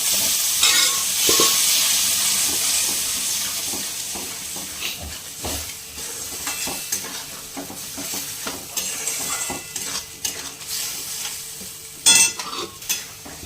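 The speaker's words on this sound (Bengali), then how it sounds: "মশলাটা আমি দিয়ে দিচ্ছি মটরটা যেটা সিদ্ধ করেছিলাম সেটা আমি ছেড়ে দিচ্ছি" Spices and boiled peas for ghugni fry in a pan, a loud hissing sizzle that fades somewhat as stirring scrapes and taps sound irregularly throughout, close and without talk.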